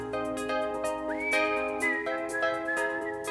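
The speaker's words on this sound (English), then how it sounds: "Whistles." Melodic whistling in a song, a bright sustained line with a rising slide, carried over steady band accompaniment with no talking.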